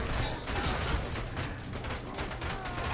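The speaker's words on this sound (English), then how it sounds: "Both toads going off right now, and toad explosions land beautifully onto Zerfur's lizards" Toad explosions land on lizard units in the Tooth and Tail strategy game, a dense, continuous barrage of crackling blasts and popping bursts that stays loud and chaotic throughout.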